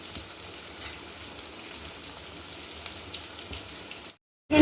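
Flattened-rice (chira) pakoras deep-frying in hot oil, a steady close crackling sizzle with scattered pops that stops abruptly near the end.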